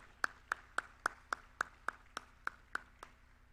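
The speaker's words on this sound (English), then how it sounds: "Let's clap for them." Applause from a workshop audience, heard as about eleven evenly spaced single claps, sharp and fairly close, with a quiet room behind them and no talking.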